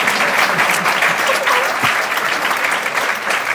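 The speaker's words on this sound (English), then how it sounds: "That's our mayor, give him a good round of applause." Steady, dense audience applause at a transit authority's state of transit address, honoring the city's mayor; continuous loud clapping throughout with no break.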